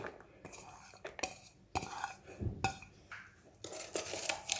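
Sliced white watermelon rind strips are tipped into a bowl, giving a few soft clattering knocks and light clinks against the dish at close range, with a brief rustle near the end and no talking.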